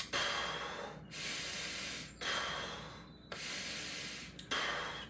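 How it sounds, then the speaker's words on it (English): Slow, deep belly breaths demonstrated for soccer players, three long airy inhale-exhale cycles with brief pauses between, close and steady with no talking. "she shows you how to do this belly breathing technique"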